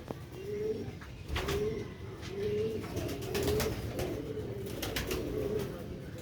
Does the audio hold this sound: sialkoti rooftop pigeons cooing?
yes